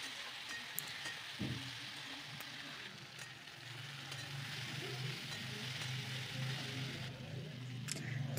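Salt, turmeric and cumin powder fry in hot oil for an egg and potato curry, giving a close, steady sizzle with occasional stirring scrapes throughout.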